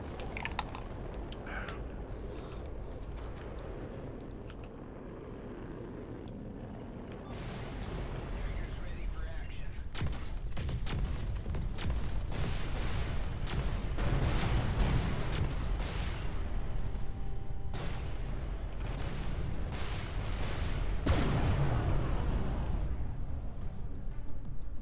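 Flak cannon firing in the space game Everspace 2, heavy blasts and rumbling bursts building in the second half, mixed with keyboard clicks and talk.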